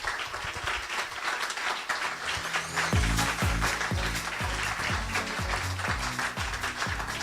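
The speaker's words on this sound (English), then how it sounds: "a round of applause, please, as you come and take the stage with me" Audience applause at a football club press conference, steady crowd clapping overlaid by loud, evenly spaced low thumps, like footsteps or a rhythmic beat, during the second half.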